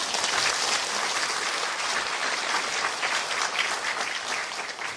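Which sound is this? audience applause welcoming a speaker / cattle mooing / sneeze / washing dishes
audience applause welcoming a speaker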